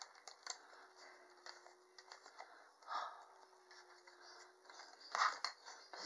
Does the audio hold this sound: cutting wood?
yes